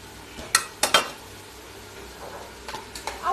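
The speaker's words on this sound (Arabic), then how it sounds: "اول ما الفراخ بقى تشرب ميتها كده وتتلسع قشرتها" Chicken pieces sear in a hot pan under a soft sizzle, broken by several sharp metallic clatters of a utensil against the pan. No one speaks.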